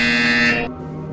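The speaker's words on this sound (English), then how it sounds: "When you hear the buzzer, turn around and face the server farm behind you." A loud, sustained electronic buzzer tone sounds alone for about a second in the VR game Portal Stories VR, then cuts down to a quieter lingering hum.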